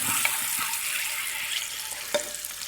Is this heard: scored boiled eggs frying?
yes